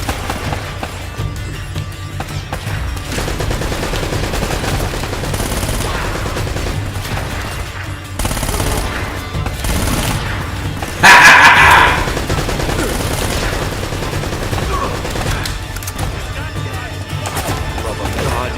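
Heavy, rapid gunfire from a big gun in the Uncharted video game hammers away continuously amid dense battle noise, with a sharper, louder burst partway through.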